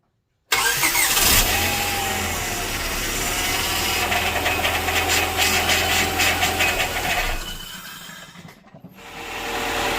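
Honda Prelude engine running steadily a few minutes after start-up while the power steering is bled, a loud continuous mechanical drone with rubbing, whining texture, easing off near the end.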